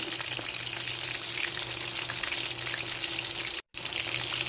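Masala-coated fish fries in hot oil, a steady close crackling sizzle that drops out for a moment near the end before resuming.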